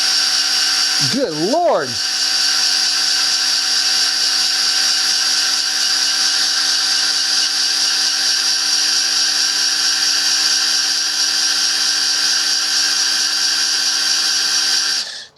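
A power drill set to high torque spins a small-block Chevy 400 oil pump to prime it, giving a loud, steady, unbroken whine for the whole stretch, with a brief voice near the start.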